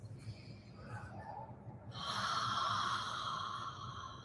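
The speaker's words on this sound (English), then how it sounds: "Take a couple of breaths with audible exhales." Soft, close breathing during a yoga session, with a longer, audible whooshing exhale in the middle standing out over quiet room tone.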